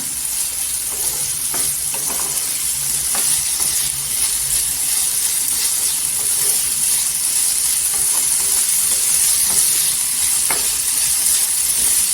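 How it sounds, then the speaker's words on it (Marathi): Raw potato pieces sautéing in hot oil in a pan give a steady, close sizzle that never stops, broken by occasional scraping stirs. "छान असा बटाटा तेलावर परतून घ्यायचा"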